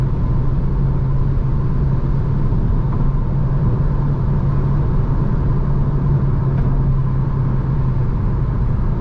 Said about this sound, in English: Gonna punch it all the way going uphill.